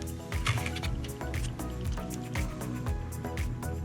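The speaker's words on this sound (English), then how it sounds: "this is plaster, pottery plaster, plaster Paris, whatever. And I'm gonna mix some water in it." Water is stirred into pottery plaster, also called plaster of Paris, producing continuous wet squishing and sloshing with small drips, moderately loud and close.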